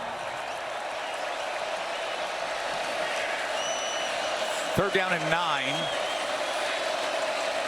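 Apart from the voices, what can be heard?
football stadium crowd at DKR cheering for defense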